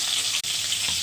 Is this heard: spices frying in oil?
yes